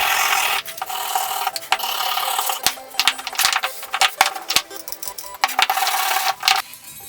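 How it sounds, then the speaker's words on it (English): A wire brush scrubs rust off a vintage Record 51 Junior vice, giving close, harsh rasping strokes in irregular bursts with brief gaps and sharp scraping ticks between them. "then began with a wire brush to start removing most of the rust"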